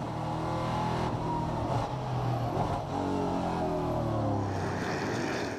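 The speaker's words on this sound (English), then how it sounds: "Let's ride on board with Gabillon on the outside." Onboard race car engine at Circuit Zolder during an Elite 1 final, a loud continuous roar with steady harmonic tones that rise and fall as the car accelerates and shifts, close and dominant throughout.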